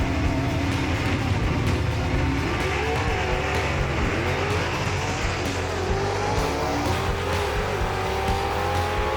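Two 1967 Camaro gasser race cars drag race at a Southeast Gassers event, their engines a loud, continuous, close roar that climbs in pitch as they accelerate down the strip, with no talking.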